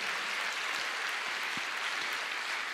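A church congregation applauds the Lord after a sermon, a steady wash of soft clapping that stays fairly faint and even throughout, with no voices standing out.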